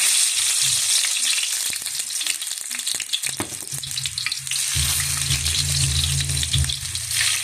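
Garlic sizzles and crackles in hot oil in a frying pan, a dense continuous hiss with scattered pops and stirring scrapes, close and loud throughout.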